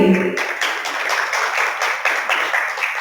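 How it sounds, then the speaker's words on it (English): A steady round of clapping from a crowd at a business award show, dense and continuous, starting right after a brief moment of other sound. "So let's give a round of applause to the Punjab Business Award"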